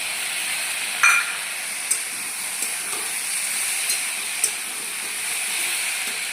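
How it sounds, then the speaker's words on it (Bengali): Ridge gourd and tomato fry in a pan, giving a steady bright sizzling hiss with a few faint clicks and light taps of a spoon scattered through it. "এবার আমি টমেটোটা দিয়ে দেবো।"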